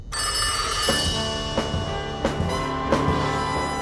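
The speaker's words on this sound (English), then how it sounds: "Patrice, get me Navarro on the phone." An old-style telephone bell rings in an audio drama, sounding in steady repeated bursts that stand alone with no talk.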